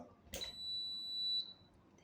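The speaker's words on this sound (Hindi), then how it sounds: "जैसे ही मैं इसका स्विच लगाऊंगा तो ये बीप की आवाज़ देगा।" A Prestige induction cooktop gives a single clear electronic beep as it is switched on, a sustained high tone lasting about a second after a brief click, in an otherwise quiet room.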